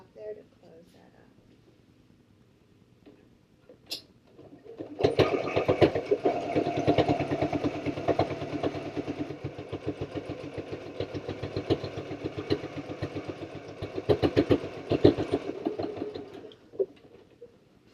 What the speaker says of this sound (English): I'm just going to stitch across the top there to close that up.